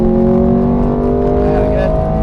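Ferrari race car on the Silverstone circuit at full power, its engine droning loud and steady with strong harmonic tones that climb gradually as it accelerates down the straight.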